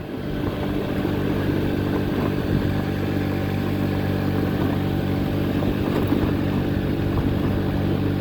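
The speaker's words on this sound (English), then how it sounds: "I bought this bike new in 2022, and you know, this little 49cc has went through a lot." A little red 49cc motorbike hums steadily as it rides along a gravel road, its small engine buzzing at a constant, close and even pitch without a break.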